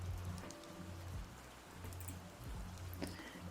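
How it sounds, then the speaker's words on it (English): Soft rain falls steadily with faint scattered droplet ticks over a low, quiet background hum, gentle and continuous with no voices. "Yeah, I thought I'd just choose soft rain, because I get so cozy when it comes to just rain, soft rain like this."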